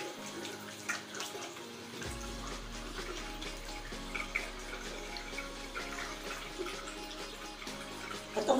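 Water runs steadily from a tap during a face wash with organic soap, a continuous close splashing hiss that starts after a moment and carries on without talk.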